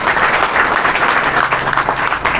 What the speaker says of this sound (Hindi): जोरदार तालियों के साथ हमारे मुख्य मेहमान का स्वागत कीजिए